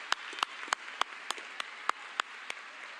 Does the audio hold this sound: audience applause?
yes